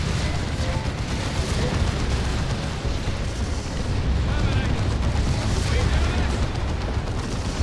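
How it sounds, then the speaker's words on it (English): Orbital bombardment in Warhammer 40,000: Dawn of War 2 lands as a loud, sustained rumbling roar of explosions and booms filling the whole stretch, with a voice speaking over the battle. "Orbital bombardment coming in."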